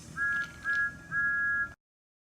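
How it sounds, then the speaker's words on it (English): Three steady, high steam engine whistle blasts from a Thomas and Friends wooden railway toy scene, the last one longest, sounding clearly over a faint rumble before cutting to silence. "He blew his whistle."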